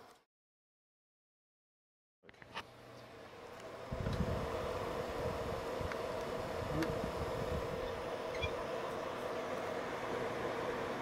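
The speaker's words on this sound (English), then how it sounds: "And most of that noise is coming from the cooling fan." G-Tech GSpeed ES cordless vacuum cleaner cooling fan: after a couple of seconds of silence, a steady whirring hum switches on and climbs to a fuller, constant roar that holds evenly, close by.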